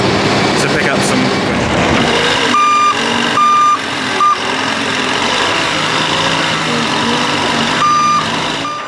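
A Manitou telehandler gives steady reversing beeps in short bursts over a constant engine drone and working machinery on a farm and forestry site, with a voice talking throughout.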